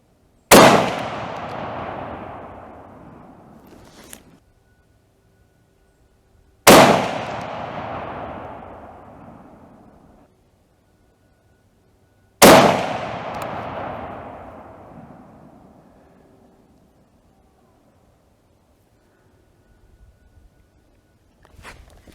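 Three loud, sharp rifle shots from a Parker Hale Lee Enfield in .303 British firing Winchester ammunition at an outdoor range, spaced about six seconds apart, each with a long fading echo.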